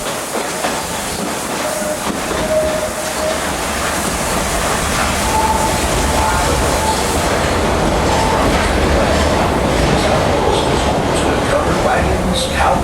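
A Walt Disney World Railroad train rumbles steadily along the rails, loud and close, with a continuous clatter and occasional faint squeals from the wheels.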